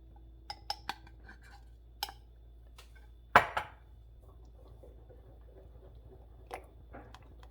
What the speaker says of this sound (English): Just keep on stirring that.